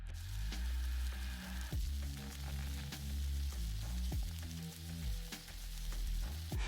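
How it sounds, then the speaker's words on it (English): Fish pieces pan-fry in hot oil with a continuous loud sizzle and crackle, punctuated by a few soft clinks from stirring or handling, with no talking. "Fry for another few minutes."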